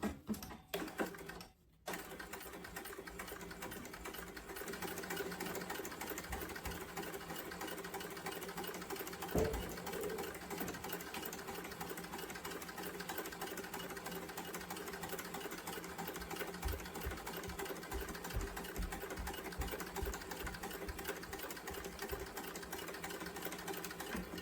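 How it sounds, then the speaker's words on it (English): A sewing machine top stitches around the finished edge of a sling bag, running in a long steady mechanical whir after a brief start and stop, close and alone without talk. "And I'm going to go ahead and top stitch around the finished edge."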